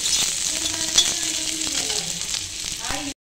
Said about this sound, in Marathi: आपण तव्यात थोडंसं तेल टाकले, त्याच्यामध्ये आता आपण हा कांदा भाजून घेऊया।